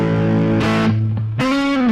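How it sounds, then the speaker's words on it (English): Guitar played through the distortion effect of a Boss GT-1000 effects unit, sustained buzzing chords with a gritty edge, switching between held notes in short phrases, loud and close with no talking. "I'm going to go and set the distortion of this, but I at least got the distortion on."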